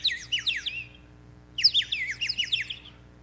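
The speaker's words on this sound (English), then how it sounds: "The leader whistled a plaintive note once again." A bird whistles in two short, quiet bursts of rapid, high chirping notes separated by a brief pause, heard alone without any voices.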